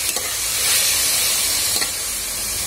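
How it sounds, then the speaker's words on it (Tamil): Finely chopped onions sauté in oil for a home-style chicken gravy, giving a loud, dense, steady sizzle close by, with a couple of soft stirring clicks early and midway. "பொடியாக கட் பண்ணி வச்ச ஆனியன் போட்டு நல்லா வதக்கி விட்டுருங்க."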